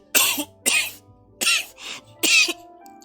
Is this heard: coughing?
yes